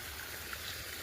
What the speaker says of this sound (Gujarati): મકાઈમાં પાણી ચાલુ છે